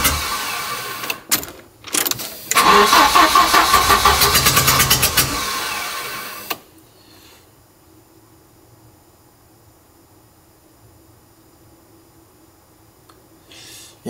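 An old Volvo car engine cranks in a few short bursts, then in a long, rhythmic, loud cranking run of several seconds that fails to start and cuts to quiet.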